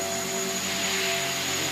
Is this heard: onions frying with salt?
no